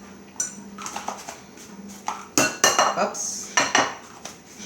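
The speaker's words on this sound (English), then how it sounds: "Mix it up with the flour." Flour being mixed in a bowl with baking powder for blintz batter, loud clattering utensil strikes and scrapes against the bowl in irregular bursts, with a brief spoken exclamation.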